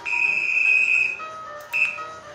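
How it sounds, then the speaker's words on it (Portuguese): A referee's shrill whistle sounds in a long blast, then a short second toot, clear and fairly close. "vamos com o apito do juiz"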